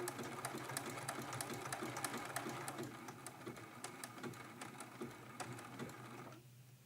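A sewing machine stitching a quilt block with a mug appliqué, running in a quiet, even rapid patter of needle strokes over a low motor hum, then slowing and stopping near the end.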